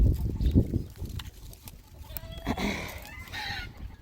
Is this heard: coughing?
no